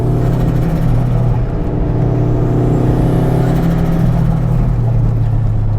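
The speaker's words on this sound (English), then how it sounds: "Oh, man, that turbo sounds so good, right?" Toyota MR2 Turbo with an E153 limited-slip gearbox, its engine droning loud and steady with strong low harmonics from inside the car on a mountain road, pitch shifting slightly as it pulls.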